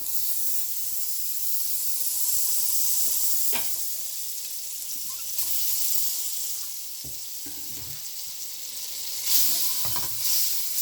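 Margarine melts in a hot pot on the stove with a steady bright sizzle and hiss. A few clicks and light knocks rise over it, and no one speaks.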